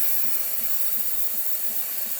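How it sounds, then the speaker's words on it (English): The steam wand of a Saeco coffee maker lets out a continuous, even hiss of steam, loud and close, with a faint low pulsing underneath and no voices. "Here comes the steam."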